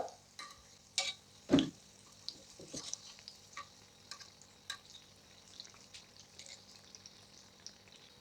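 Quiet, steady sizzling of unniyappam frying in oil, with soft ticks and a couple of louder clinks from a utensil. No one speaks.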